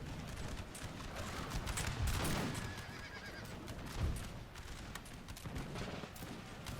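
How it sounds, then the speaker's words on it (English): Musket volleys and cannon fire in a Napoleon: Total War battle, as guns and canister tear into enemy regiments, a dense rumble of overlapping shots with heavier bursts around two and four seconds, continuous and busy throughout. "The guns are now firing."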